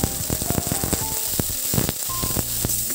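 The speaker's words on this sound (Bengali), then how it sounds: "এলা মই মটর কলাইগুলো ভাজি নিই।" Dried peas frying in oil in a pan after fish was fried for a katol fish curry, a loud continuous crackling sizzle with sharp popping bursts, close and without speech.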